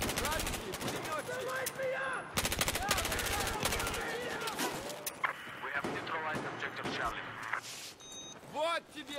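Rapid machine-gun bursts in Battlefield 4 rattle loud and close, coming in long stuttering strings with brief pauses, while voices speak over the gunfire.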